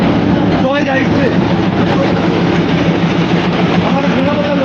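The Darjeeling Himalayan toy train rumbles steadily near Darjeeling railway station, a loud, constant mechanical drone with passengers talking over it.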